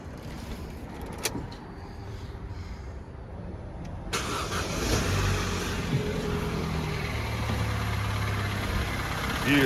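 A Vauxhall Corsa engine runs steadily with a newly fitted exhaust, a low continuous idle that grows fuller and louder partway through, heard close up with no talking.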